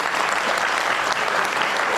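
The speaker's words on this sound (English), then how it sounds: "Can we have another round of applause" Audience applause at a college cultural festival forms a continuous, even roar of many hands clapping at once, full and close, with no break or voice over it.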